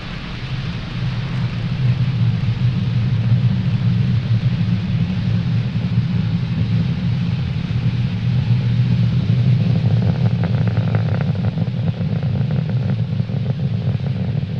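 SpaceX Falcon 9's Merlin 1D engines roar at liftoff from Pad 40, Cape Canaveral Space Force Station, carrying the Eutelsat HOTBIRD 13G satellite: a deep, steady, loud rumble that holds for the whole stretch with no voices.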